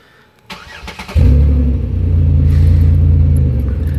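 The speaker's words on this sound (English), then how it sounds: "Let me do the remote start from the back so you can hear the exhaust." A 2010 Chevy Impala LTZ with Flowmaster 44 aftermarket mufflers is remote-started: a click and brief crank, then the engine catches into a loud, steady, deep exhaust rumble heard from behind the car.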